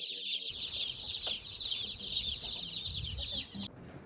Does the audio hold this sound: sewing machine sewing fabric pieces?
no